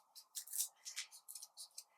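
Scissors snip through origami paper in quick, quiet, crisp cuts, a steady run of short close snips with brief pauses between them.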